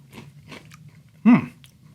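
A single loud crunching bite into dry Tres Leches Toast Crunch cereal, close up, preceded by faint quiet rustles and no talk.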